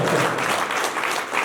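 An audience applauds at a wedding celebration, a dense, steady wash of many hands clapping up close that holds at full strength for the whole moment, with no talk over it.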